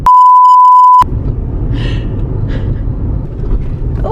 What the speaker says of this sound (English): and you'll need a beep here.